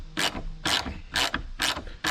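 A ratchet clicking in four quick rapid bursts with short gaps as a 10mm plastic nut is snugged down on a 2013 Mk6 Golf R tail light, crisp and close with no voices.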